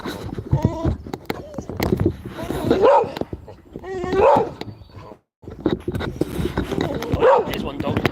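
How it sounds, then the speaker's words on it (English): A dog barks and yips in short excitable bursts at close range, mixed with whimpering, while a person talks over it. "I know it's a dog."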